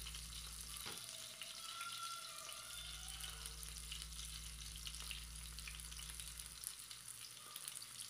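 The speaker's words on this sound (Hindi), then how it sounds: "बाकी के कबाब जो हम वो भी साथ में ही फ्राई कर लेंगे" Beef seekh kebabs frying on a tawa, giving a continuous faint sizzle with a low steady hum beneath, heard at a distance with no voices.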